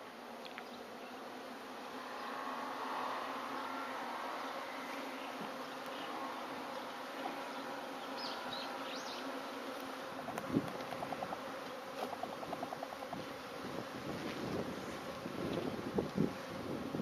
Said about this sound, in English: There's a bunch of bees in there.